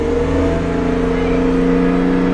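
A Porsche 911 Turbo 997.2 with a PDK gearbox accelerates, its engine a loud, steady, close drone with a sustained rising tone.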